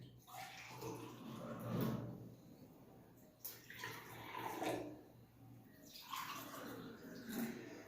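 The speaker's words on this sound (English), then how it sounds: "Now I am going to pour" Water poured into a container in a classroom demonstration, several separate pouring bursts of splashing and gurgling with short pauses between them, close but fairly quiet.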